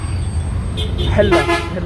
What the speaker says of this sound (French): en fait ils klaxonnent un peu quand même